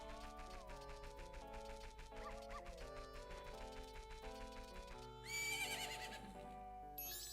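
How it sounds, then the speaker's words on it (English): Epona, the horse in The Legend of Zelda: Majora's Mask, lets out a loud neigh over ongoing game music, following a stretch of melodic background score. "Isn't that your horse?"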